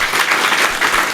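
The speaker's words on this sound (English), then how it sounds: "would you join me in giving the Elks a round of applause?" A room of people at a historical society event applauds the Elks, a loud, continuous wash of clapping from many hands close by.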